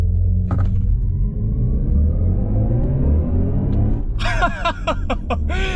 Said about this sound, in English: it actually has a launch control system in an all-electric car